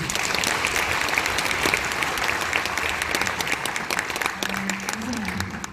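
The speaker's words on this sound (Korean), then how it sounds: "어마어마한 업적을 이루신 우리 권 총장님께 여러분 박수를 좀 부탁드립니다." A crowd applauds at a book launch ceremony, dense sustained clapping throughout, with faint murmuring voices underneath near the end.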